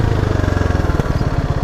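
A motorcycle pulling away on the clutch alone with no throttle, its engine chugging in a fast, even, close-up beat at low revs.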